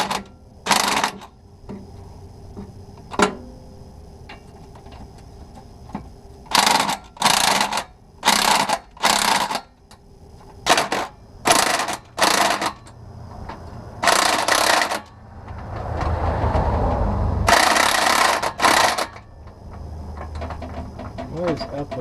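A ratchet and socket tighten an exhaust hanger bolt on a 2016 Duramax, producing repeated short bursts of rapid clicking, with pauses between them and talk in the background.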